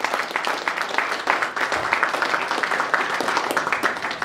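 An audience at a lecture breaks into steady, dense applause, with many hands clapping continuously at a fairly loud level throughout.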